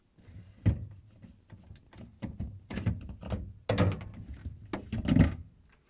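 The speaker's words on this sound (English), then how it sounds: "We will start with removing shelves." Plastic and glass shelves pulled out of the fresh food compartment of an open Samsung refrigerator, giving a series of close, sharp clunks and rattles at irregular intervals with no talking.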